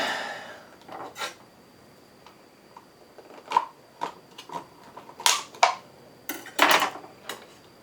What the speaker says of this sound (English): We get our scissors into the incision incisively.